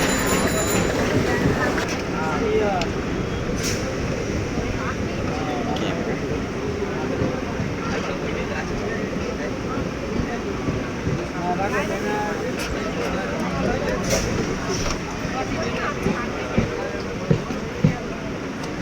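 A train rolls into Maliya station after passing Kamarkunda, heard from on board as a steady, dense rumble of wheels and carriage with faint squeals and a few sharper knocks near the end.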